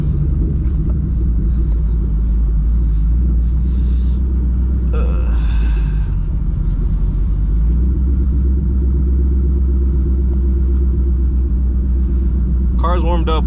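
A 2007 Mustang GT idles after warming up, a steady deep low rumble that holds throughout at close range, with a brief brighter squeal near the end and occasional background voice sounds.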